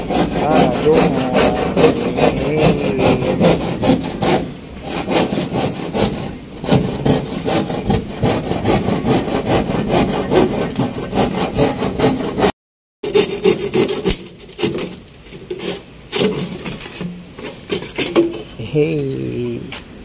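Hand saw cutting through wood in rapid back-and-forth strokes, loud and close, with a brief pause before the rasping resumes in shorter bursts.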